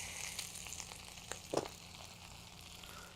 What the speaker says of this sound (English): I'm going to put all this in our saute pan here